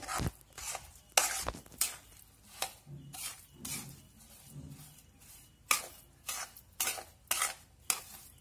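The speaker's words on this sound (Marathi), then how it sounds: "व्यवस्थित ढवळून घ्यायचा, म्हणजे पाक आहे तो रव्यामध्ये मुरला पाहिजे." A spoon stirs semolina with sugar syrup and grated coconut in a metal pan for rava ladoo, making repeated scraping clinks and soft, thick shuffling strokes in an uneven rhythm, close and fairly quiet.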